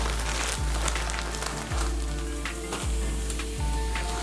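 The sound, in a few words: veggie burgers sizzling on a grill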